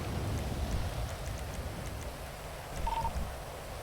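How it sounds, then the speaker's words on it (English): Rain falls in the video game GTA 5, a steady low patter over the scene with a faint short electronic tone partway through. "We ain't gonna get in the car out of this rain."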